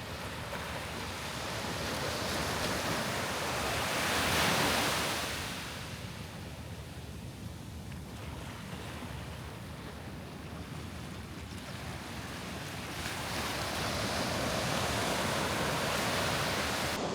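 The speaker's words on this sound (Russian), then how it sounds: "сейчас оказаться здесь, на берегу океана" Ocean waves wash onto the shore at night in Portugal, a steady broadband roar that swells and recedes as breakers roll in, with a surge at the start and another near the end, and wind noise on the microphone throughout.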